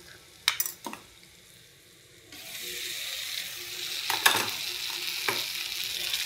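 Dalia, broken wheat, tipped into a frying pan, a few sharp clinks first, then a sudden steady sizzle that continues with spatula scrapes and knocks as it is stirred.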